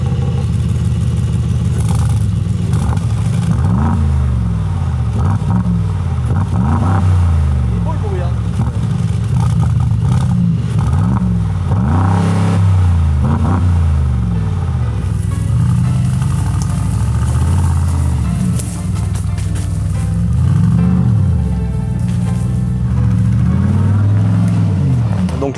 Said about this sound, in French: Le gros V8, il fait son bruit.